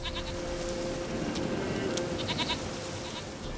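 A goat in The Witcher 3 bleats several times in a row, short wavering cries heard fairly close over a steady ambient bed of outdoor game atmosphere.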